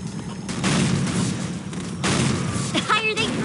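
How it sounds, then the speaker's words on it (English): Booming explosions and gunfire in the Unreal Tournament 2004 video game, loud and continuous with bursts at roughly one and two seconds, a dense noisy rumble throughout and a short tonal game effect near the end. "The higher they fly, the louder the explosion!"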